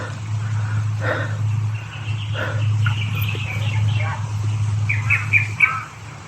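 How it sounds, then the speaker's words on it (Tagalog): A flock of crows caws in a horror video game, several harsh calls scattered over a steady low ambient hum, with a voice speaking amid them. "Ang daming uwak."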